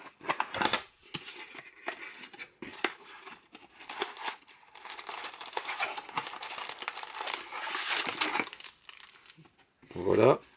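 A sealed box of Topps Liverpool FC trading cards is torn open and its wrapping crinkles and rustles steadily up close for about ten seconds, with a voice speaking over the handling.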